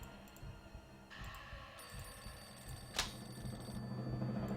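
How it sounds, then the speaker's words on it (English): A telephone rings in a Nancy Drew game, a bright electronic ring starting partway through over a low droning background, with no one talking. "There's the phone."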